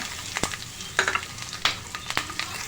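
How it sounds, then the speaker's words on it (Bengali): Garlic, onion and green chili stirred in a hot pan for an ol kochu (elephant foot yam) bhorta, with a steady low sizzle and several distinct scraping stir strokes spaced about half a second apart, close by, with no talking. "এটা দুই মিনিটের মতো একটু নাড়াচাড়া করে নেব"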